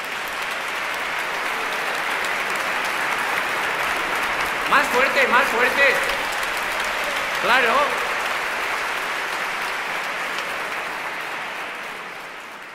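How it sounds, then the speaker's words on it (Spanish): Audience at a children's educational concert of Ravel's Bolero breaks into two short bursts of clapping, the first longer, over steady room noise while a presenter talks. "Un aplauso para ellos,"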